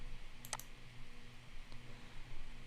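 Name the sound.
computer mouse clicking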